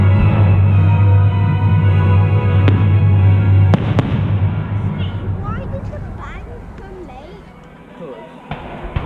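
Fireworks burst at a Blists Hill Victorian Town bonfire night show, loud booms and crackles with sharp reports over a crowd's murmur, then fading to scattered crackling.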